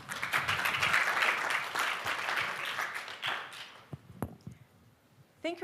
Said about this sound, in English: Round of applause for Sound Surfer, everyone.